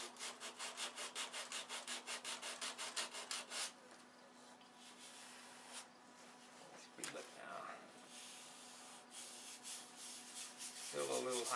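Hand sanding of a wooden model, with a rapid run of rhythmic back-and-forth strokes at first, then slower, quieter rubbing passes; close and fairly soft.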